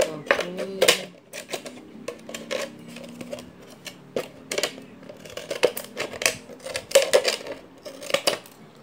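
Scissors snip through a PET plastic bottle in a series of close, crisp crunching cuts in irregular bursts, with faint rustling of the plastic in between.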